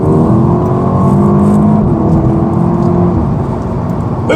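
Audi S3 engine revving and accelerating, a steady loud mechanical whir with rising tonal bands, heard close and continuous with no talk.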